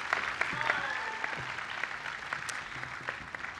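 Audience applause after a preparatory academy concert choir performs at a graduation ceremony in a hall, steady clapping of a moderate crowd with scattered sharp claps and a voice speaking over it.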